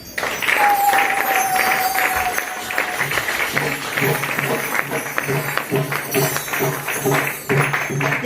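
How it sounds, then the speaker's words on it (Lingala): A church congregation claps and cheers steadily throughout, a dense wash of applause with a sustained tone early on and voices mixed in. "Est-ce que vous pouvez acclamer pour nous?"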